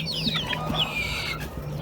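Small İspenç hens and a rooster cluck on a chicken farm, short calls and a few rising squawks over a steady low hum, fairly close and continuous.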